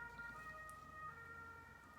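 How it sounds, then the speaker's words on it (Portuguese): An ambulance siren passes outside, its steady wailing tone faint and distant behind quiet indoor ambience. "Momento zen agora da ambulância."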